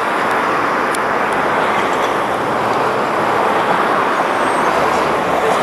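Busy city street at a bus stop, a dense steady roar of passing cars and buses with continuous road noise, loud and unbroken.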